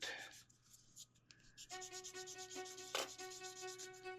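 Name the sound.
sanding plastic scale model battery cases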